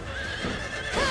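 A horse whinnies in a fantasy battle in the video game Fire Emblem: Three Houses, a rising and falling neigh over clattering hooves and game sound, close and fairly loud for about a second.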